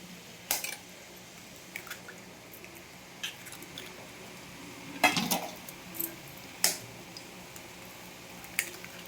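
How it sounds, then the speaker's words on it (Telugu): Eggs cracked against a bowl and beaten into a cooking mixture with drumstick leaves, potato, green chili and onion; a few sharp clinks and taps sound close, spaced out over a quiet background, with no talking. "ఇప్పుడు ఎగ్స్ కూడా కొట్టి వేసేద్దాం"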